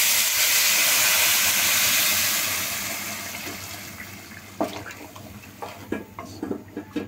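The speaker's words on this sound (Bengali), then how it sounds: "পানি দিয়ে দিব।" Hot water is poured into a pot of fried rice for beef biryani, a steady rushing, hissing pour that fades, followed by a series of clattering knocks from the pot and utensils nearby.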